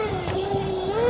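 Burromax XRA electric motorbike riding, a steady close electric motor whine holding one pitch before rising slightly at the end, over road and wind rumble.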